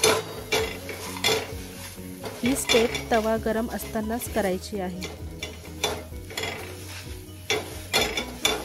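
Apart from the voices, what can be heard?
crushing green chilli and garlic on a hot iron tawa with a metal tumbler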